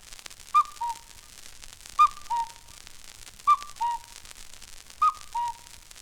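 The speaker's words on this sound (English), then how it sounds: "The mistle thrush." A mistle thrush gives a clear two-note fluty whistle, a sharp high note dropping to a lower one. The phrase repeats four times at even intervals over faint background hiss.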